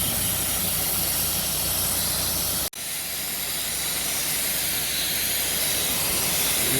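A low-pressure water rinse sprays house siding, producing a loud, continuous broadband hiss. It cuts out for a split second and then resumes steadily.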